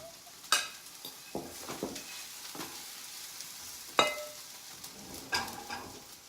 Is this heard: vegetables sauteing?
yes